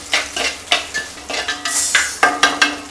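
Chopped onion and fenugreek sautéing in oil for sambar, with a brisk sizzle broken by rhythmic spatula stirs and scrapes against the pan, close and loud, about ten strokes in quick succession.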